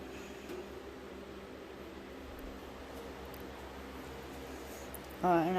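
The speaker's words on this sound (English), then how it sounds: "I do have a fan going, if that's what you're wondering what that noise is." Electric fan running in a garage, a steady broadband whir held at low level throughout, with a voice starting up briefly at the very end.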